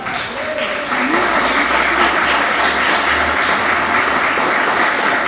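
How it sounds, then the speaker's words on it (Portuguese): Strong, sustained applause from a church congregation fills the space, a dense wash of many hands clapping loudly and continuously, with a faint voice or tone briefly audible underneath at the start. "aplauda ele bem forte"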